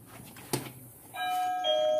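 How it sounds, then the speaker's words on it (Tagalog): A doorbell chimes with two clear ringing tones, the second following the first, preceded by a soft knock-like tap in a quiet room. "narinig nyo naman ng doorbell, di ba?"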